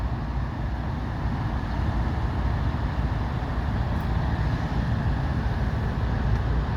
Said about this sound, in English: Road train backing in.